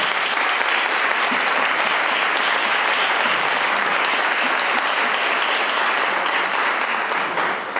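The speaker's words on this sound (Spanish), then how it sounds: "un aplauso fuerte para todos nosotros por estar aquí luchando ante estas condiciones tan difíciles" A conference audience claps loudly and without a break for the whole stretch. The sound is a dense, even wash of many hands with no voices on top.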